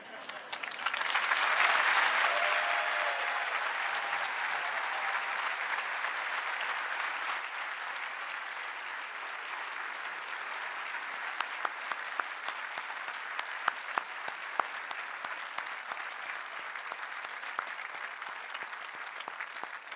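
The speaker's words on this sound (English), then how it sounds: "Let's give him another round of applause" Applause from the crowd at a 2024 academy commencement ceremony swells quickly, then continues as a broad, sustained clapping that gradually thins into scattered individual claps.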